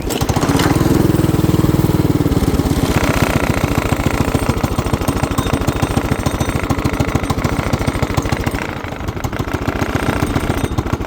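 A vehicle engine straining to stay running during a snowstorm, a loud rough, rapid chugging idle that stumbles and sags before picking back up, close and continuous with no talk.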